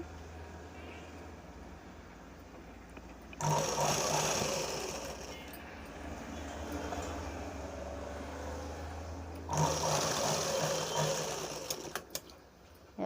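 Sewing machine stitching together cut cross pieces of a boat-neck blouse, two loud bursts of steady motor whir separated by a quieter running stretch, close and with no voices.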